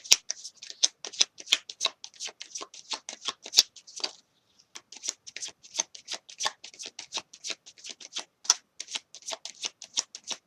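Tarot cards shuffled by hand: dense flurries of crisp riffling snaps, close and clear, with a brief pause partway through before the shuffling resumes, and no speech.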